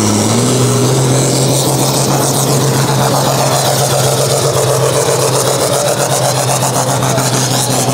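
Loud, steady tractor engine roar at a tractor pulling event, with a deep, constant drone and rattling mechanical texture, holding at full power in first gear throughout.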